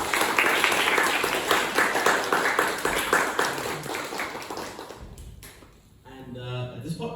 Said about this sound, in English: a big hand of applause to our panelists today